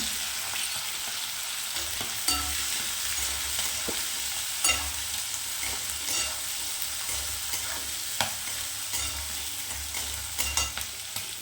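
Mixed vegetables such as carrot and chickpeas being sautéed in a pan: continuous bright sizzle with repeated spatula scrapes and taps against the pan, close and alone, no talk.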